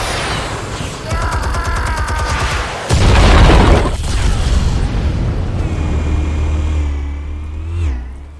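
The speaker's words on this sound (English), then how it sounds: "Explosives armed. Fire when ready." Rumbling explosions and crackling blasts in a Batman video game, one heavy boom near the middle swelling over continuous roaring noise, with a low drone and a whooshing tail at the end.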